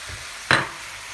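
Soy sauce poured into a hot frying pan gives one sharp, loud burst of sizzle that quickly fades into a softer hiss, with no speech over it.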